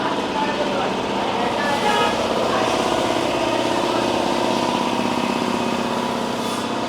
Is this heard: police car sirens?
no